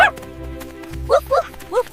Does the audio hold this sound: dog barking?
yes